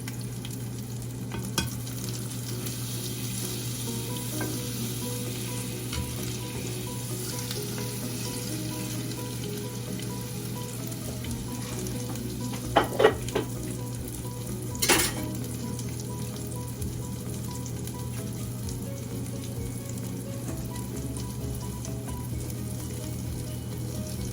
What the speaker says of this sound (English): adding about a half a tablespoon of butter